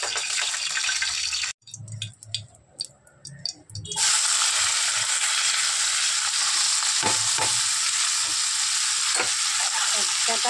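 Food drops into hot oil and fries with a loud, steady sizzle that fills the kitchen, after a brief quieter gap with some clatter and a few soft knocks.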